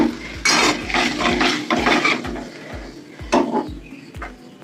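Yogurt whisked with water in a bowl gives a run of quick, rhythmic clinks and scrapes of a utensil against the bowl, close and fairly loud, pausing briefly before resuming.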